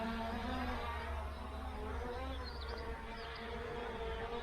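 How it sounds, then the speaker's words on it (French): A small drone's steady, high-pitched buzzing whine, close and continuous, with tonal hum throughout. "c'est un petit drone qui doit voler sans vent"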